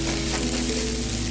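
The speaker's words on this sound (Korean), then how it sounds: "후춧가루 약간을 넣고 함께 볶아주세요." Cooked rice with a sprinkle of pepper stir-fries in a pan, giving a close, constant sizzle under light scraping from a utensil. No voices are heard.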